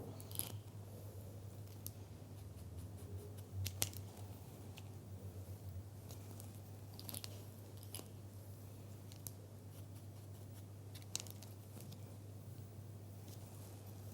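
Scissors snip through hair during a bob haircut, a run of crisp close cuts in irregular bursts over a steady low electrical hum, with no talking.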